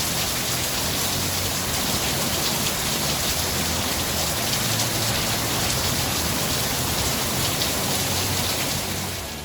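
Steady rain falls outdoors as a dense, even hiss that stays unbroken throughout, with no voices.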